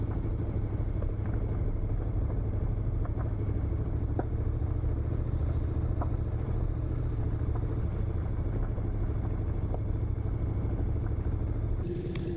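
A motorcycle rides over an off-road forest surface, its engine a steady, continuous rumble throughout with wind buffeting the microphone, close and even in level, with no talking.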